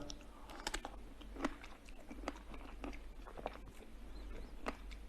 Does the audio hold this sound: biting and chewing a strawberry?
yes